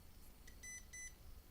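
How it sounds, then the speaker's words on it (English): A Uni-T UT61E digital multimeter gives a faint electronic beep pattern: a short chirp then two sustained tones in quick succession over a quiet background. "I don't really know what it's doing now and why it's beeping like this."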